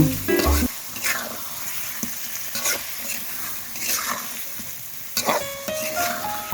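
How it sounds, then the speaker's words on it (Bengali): Hilsa fish fries in a spice masala during a village-style cook. Continuous sizzling runs throughout, with regular scraping strokes of a spatula against the pan and no talking. "ইলিশ মাছ দিয়ে ভালোভাবে মাছটা কষিয়ে নেব।"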